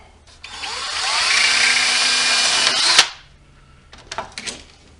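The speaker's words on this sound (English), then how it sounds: "So we'll just get us a hole drilled down through here." A power drill bores a bolt hole through plastic while fitting a garage radio, a steady loud whine running about two and a half seconds before stopping abruptly, followed by a few light clicks and handling knocks.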